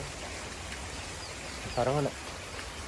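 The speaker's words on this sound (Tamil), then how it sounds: "மழை வேறு சரியான மழை பெய்யுது" Heavy rain falls as a constant, fairly loud wash of hiss across the whole stretch, and a voice speaks briefly over it.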